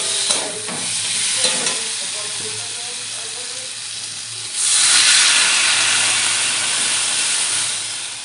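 Water poured into a pan of frying potatoes and eggplant for a fish curry sets off a loud burst of hissing steam and sizzling midway, after softer stirring and frying sounds.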